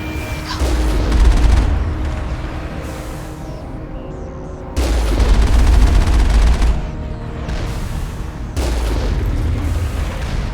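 Turrets in the video game Mass Effect fire heavy bursts of rapid automatic gunfire with booming impacts, coming in three long loud volleys separated by short lulls, with no speech.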